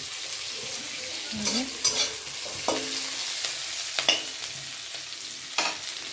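Small puti fish frying in a pan with onion and chili, a steady sizzle under repeated scraping strokes of a spatula stirring through the mixture, close and moderately loud.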